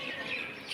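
Parrots and mynas squawk and chirp near a cave, a dense, steady chorus of harsh calls close by with no voices over it.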